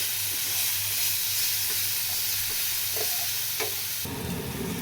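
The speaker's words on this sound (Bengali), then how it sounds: "টমেটোটা খানিকক্ষণ গলুক, গ্যাসটা কিন্তু সিমে থাকবে" Tomatoes softening in a pan on a low flame for Bengali bottle gourd ghonto, giving a steady gentle sizzle and hiss with faint stirring taps throughout.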